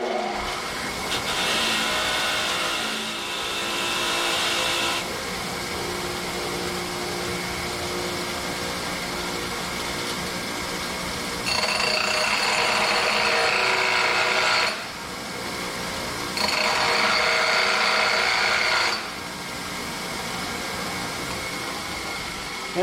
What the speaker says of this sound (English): the first thing I'm going to do with this wrench is knock some of the rust off of it with my wire wheel